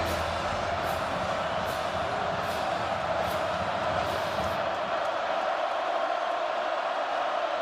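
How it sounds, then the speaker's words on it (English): A football stadium crowd in Manhattan, Kansas, roars steadily during a K-State versus Baylor game on a third-and-long, a dense sustained wall of cheering and shouting with rhythmic accents. "Crowd coming to life on a 3rd and long for Baylor"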